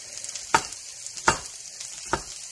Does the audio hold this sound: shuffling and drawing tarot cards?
no